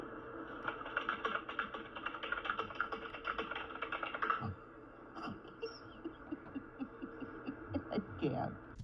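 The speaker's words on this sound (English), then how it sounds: "I love the overly aggressive typing." Fast, forceful keyboard typing clatters in dense bursts of keystrokes, steady and fairly close, with a brief pause midway before the rapid clicking resumes over a low background hum.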